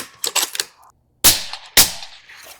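Two loud, sharp rifle shots from a 300 Blackout Super rifle fired at an outdoor range, each a sudden crack with a fading tail, spaced about half a second apart after a brief burst of earlier shots.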